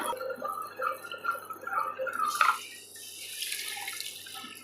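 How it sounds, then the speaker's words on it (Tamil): Soaking water poured over ration rice in a stone wet grinder while making idli batter, a fairly close, steady trickle and splash that softens into a quieter wash of running liquid. "இந்த தண்ணியவே நம்ம சேர்த்துக்கலாங்க ஊற வச்சுக்கிற தண்ணியவே"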